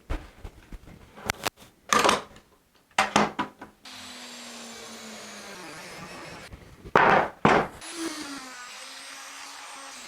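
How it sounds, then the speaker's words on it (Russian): A handheld edge router rounds the corners of a wooden end-grain cutting board, giving short loud bursts of cutting noise between quieter stretches of the motor whining and spinning down, all close up. "я пройдусь кромочной фрезой."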